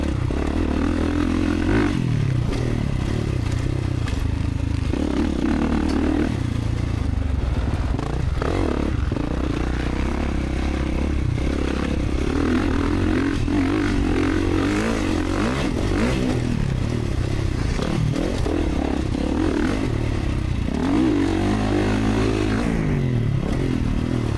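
A 2024 Kawasaki KX450 dirt bike runs continuously on a motocross practice track, engine revving and rolling on with gear clatter and dirt scrape, loud and close throughout with no talking.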